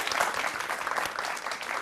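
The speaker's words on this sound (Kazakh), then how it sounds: "Шапалақ қошеметтер." Audience applause at a comedy show, dense steady clapping from a crowd filling the whole stretch at even loudness.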